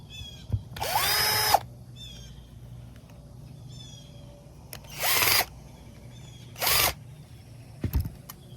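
A power drill driving screws into a carburetor on a Murray Select MS 2560 mower whirs in three short bursts, the first longest, close and loud, with quiet gaps and small clicks between.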